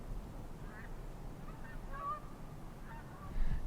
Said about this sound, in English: Just had a flock of snow geese fly over.